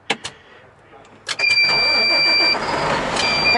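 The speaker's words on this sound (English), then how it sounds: "I just love the sound of the engine when it cranks." A Colorado Department of Transportation snowplow truck engine cranks over and catches, then settles into a steady loud running rumble with high whining tones above it.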